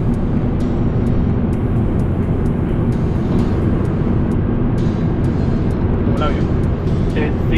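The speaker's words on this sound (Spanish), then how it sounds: "Porque lleva algún nivel del retardador, lo lleva activo." A semi-truck tractor-trailer descends the La Línea mountain pass between Calarcá and Ibagué with its engine retarder engaged, giving a loud, steady, close-up drone with faint ticks and muffled voices underneath.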